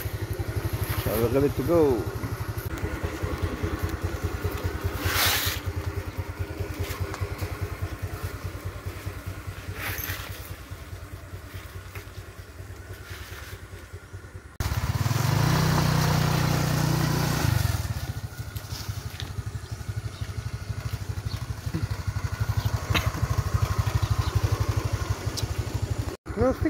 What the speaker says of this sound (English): The motorbike is starting.